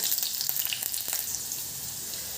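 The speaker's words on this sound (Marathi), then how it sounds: "मिरच्या टाकल्यावर थोडं लांब व्हायचं आहे मिरच्या उडतात" Green chillies splutter and crackle in hot oil, a burst of sharp close pops over a bright sizzle that settles into steady frying hiss.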